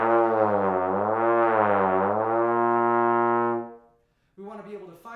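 A trombone holds one low note for over three seconds, a full, buzzy brass tone with gentle wavering, fading out before a short burst of speech.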